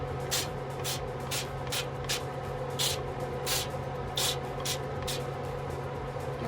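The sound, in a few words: spraying cooking oil on air fryer pan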